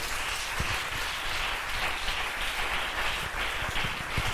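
A church congregation gives sustained, even applause, a steady dense wash of many clapping hands at moderate distance with no break.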